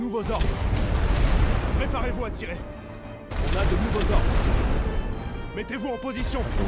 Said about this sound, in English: I know this is not the correct way to do the rolling barrage.